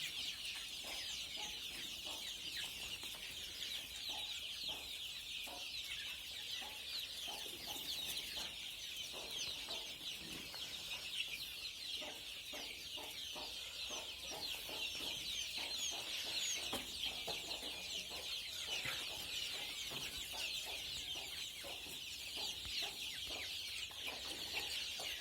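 Twenty-day-old country chicks, part of a flock sick with CRD, cluck and peep continuously as a dense, steady chorus filling a poultry shed, with no talk.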